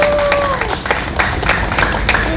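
A crowd at an outdoor political rally in front of the Supreme Court in Seoul claps in loose, uneven bursts, close and fairly loud, with faint voices mixed in.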